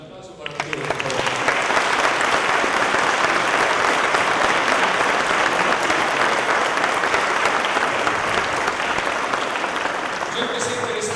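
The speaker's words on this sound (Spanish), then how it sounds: "Un aplauso para Arturo, por favor." Sustained applause from a conference audience welcoming physicist Arturo López Dávalos at an opening lecture, a dense, steady clapping that swells in within the first second and holds loud for about ten seconds before easing.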